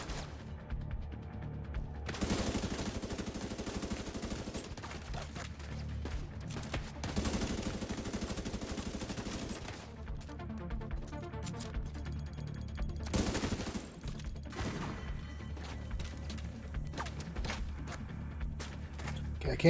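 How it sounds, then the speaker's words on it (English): Sustained gunfire in The Division 2, long automatic bursts of rifle fire with sharp cracks and clattering, separated by brief lulls, with a voice speaking at times between volleys. "I'm shooting him."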